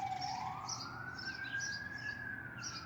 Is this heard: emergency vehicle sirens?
yes